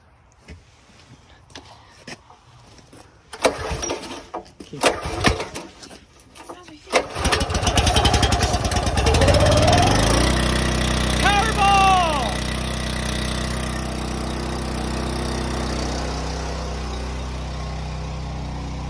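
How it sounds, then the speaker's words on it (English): A turbo power washer's small engine is pulled over and sputters a few times before catching, then settles into a steady, loud running drone, with a voice briefly heard during the start attempts. "let's go and get the power washer."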